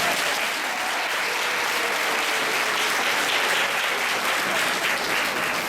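Audience at a kindergarten move-up day ceremony for K3 to K5 classes applauds in a dense, even wash of clapping that holds steady throughout.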